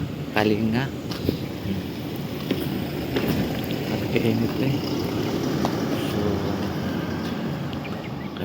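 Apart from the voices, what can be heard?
strong wind in Butuan City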